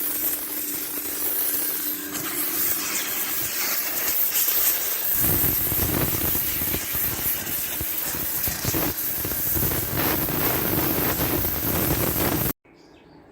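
Pressure washer fitted with a patio-cleaning nozzle blasting a car's wheel arches, a steady loud hissing spray that grows harsher and fuller partway through, then cuts off abruptly near the end.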